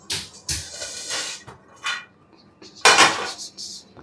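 Metal lid lifted off a pot of Chennai-style chicken biryani after dum cooking, a few loud clanks and scrapes of metal on metal with short gaps between them, close by.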